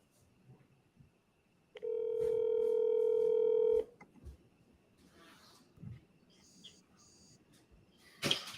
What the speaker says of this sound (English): I'm going to give this guy a call, see if I can get him on the phone.